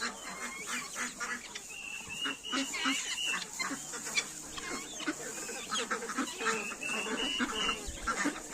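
Chickens and roosters cluck and call continuously nearby, a busy flock with overlapping squawks and short crowing notes, with some faint talk mixed in.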